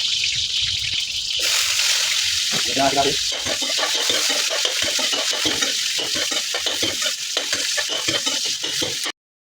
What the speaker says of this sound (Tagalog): Saute first the garlic. Then followed by the onion.